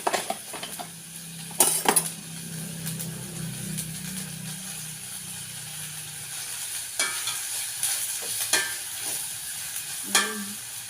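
Candle wax with oregano melting in a pot while being stirred, with soft sizzling under scattered scrapes and clinks of a utensil against metal and a low hum, no talking.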